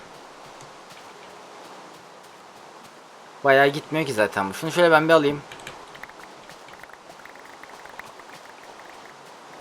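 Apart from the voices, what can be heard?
rain falling in Minecraft video game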